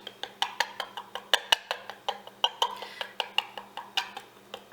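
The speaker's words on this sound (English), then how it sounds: "I always like to just take a fork and just poke holes in it all throughout" A fork pokes holes in pizza dough in a baking pan, giving about twenty quick, sharp metallic taps in a steady rhythm, close and distinct over a faint low hum.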